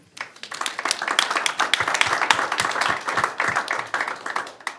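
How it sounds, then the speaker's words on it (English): Applause at a county port commission meeting, many hands clapping steadily and fairly close for several seconds, a mix of sharp individual claps over a dense patter, with no talking. "Commissioner Briscoe deserves a big round of applause for his help there this morning in really weird conditions"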